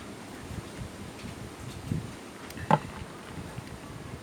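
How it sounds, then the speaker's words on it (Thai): A strong storm wind gusts outdoors during a power cut in a rural Thai village, a broad, rushing roar that swells and rustles continuously, with a brief sharper gust near the end. "อันนี้ลมกำลังจะมาขออภัยนะคะ"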